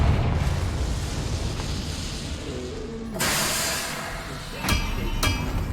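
A Confringo blasting curse goes off in Hogwarts Legacy, a broadband explosive burst that erupts abruptly and rumbles on, followed by two sharp cracks, all over a dense background of game rumble.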